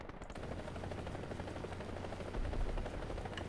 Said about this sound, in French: Nishizumi qui se fait harceler par l'hélicoptère de Panther.